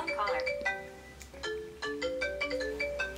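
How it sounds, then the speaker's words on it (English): A mobile phone ringtone from an unknown caller plays a repeating melodic chime pattern at moderate volume, with no talking over it. "Unknown caller. Honestly, I don't want to answer this phone call."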